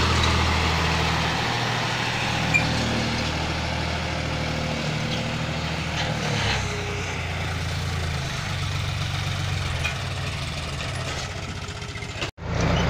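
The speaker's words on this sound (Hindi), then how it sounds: "देखो बगाना ट्रैक्टर है" A tractor engine runs steadily at a rural home under construction, a continuous close rumble that holds for most of the stretch before briefly cutting out near the end.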